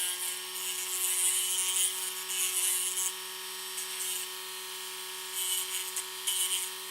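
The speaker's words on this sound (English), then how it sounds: "what you can do is actually go in with the sanding bit" A rotary sanding bit smooths plier teeth marks out of a small toy, giving a steady high whirring grind that comes in short bursts with brief lighter pauses.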